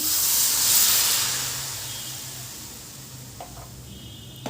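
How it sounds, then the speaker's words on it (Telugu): A glass of water hits a hot pan of prawn curry and throws up a loud burst of hissing steam. It fades gradually into a softer sizzle, with a few faint clinks near the end. "Glass water పోసుకుంటున్నానండి."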